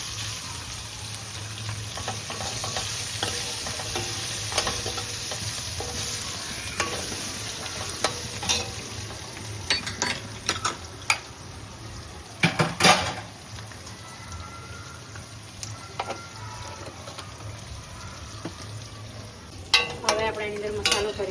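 Spiced filling of chopped chilies and garlic paste mixed by hand or spoon in a bowl for patra, a low steady scraping rustle with scattered sharp clinks and taps growing busier toward the end, no voices.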